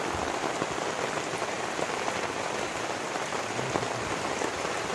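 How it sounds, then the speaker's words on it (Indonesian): Heavy morning rain pours steadily as a dense, even hiss, with drops pattering on nearby surfaces and no voices. "kondisi lagi hujan"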